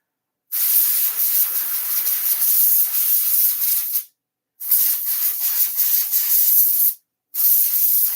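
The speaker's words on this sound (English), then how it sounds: "Let me see if I can spray it" Three long bursts of hissing spray from a bottle, each lasting a few seconds with short silent gaps between, close and fairly loud.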